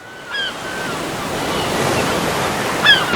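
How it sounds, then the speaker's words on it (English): Strong wind roars continuously across the microphone on a coastal walk through Penzance, Cornwall, with a loud, steady blustery rush throughout and a few faint high squeals mixed in. "Very windy walk, isn't it?"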